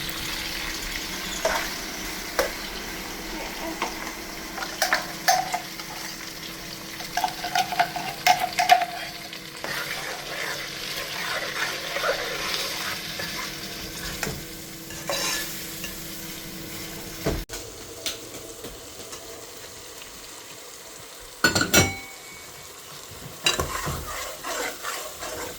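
Masala spices fry in a pan on the stove, with a soft continuous sizzle under repeated scraping stirs, close up. A short burst of running water cuts in near the end and no one speaks.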